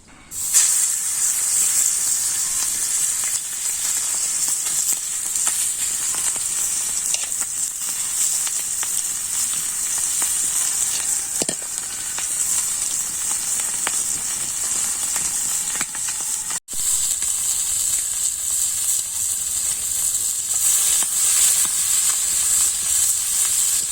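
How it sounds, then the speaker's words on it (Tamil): Steady, continuous sizzling of green tree frog meat frying in hot oil, loud and close, with a constant hiss and brief pops throughout. "எண்ணெய் சூடாகிடுச்சு. இது என்ன பண்ணிடலாம் அப்படின்னா பொரிச்சு எடுத்துடலாம்."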